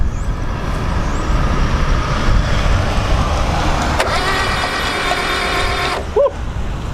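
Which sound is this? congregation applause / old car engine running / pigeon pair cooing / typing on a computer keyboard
old car engine running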